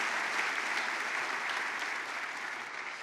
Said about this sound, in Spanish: vamos a dar un aplauso fuerte